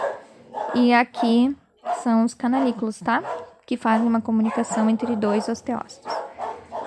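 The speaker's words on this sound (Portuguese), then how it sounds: "E perdão pelos cachorros gritando no fundo." Dogs bark in the background at home, their yelps sitting under a person lecturing steadily over them.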